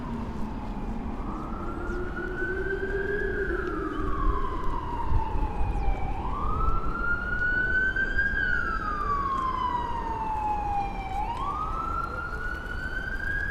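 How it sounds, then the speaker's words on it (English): A police siren wails in long rising and falling sweeps, fairly close, over steady New York City street traffic noise. "I'm not gonna cross while this car's got its sirens on."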